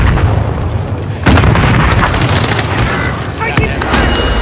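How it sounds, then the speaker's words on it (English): Airstrike explosions in a combat video game, a heavy booming blast that hits sharply and rumbles on with crackling debris, loud and close, with scattered bursts after it. "Airstrike incoming. Be aware."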